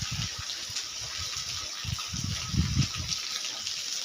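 Rainwater draining out of a flooded spot after a day of heavy rain, a soft continuous gushing flow with low rumbling surges, heard from close by with no talk.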